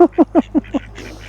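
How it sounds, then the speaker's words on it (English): Ducks being fed give five loud, close quacks in a quick even rhythm, then fall quiet except for faint background noise. "We started feeding the ducks and they've all come from everywhere again."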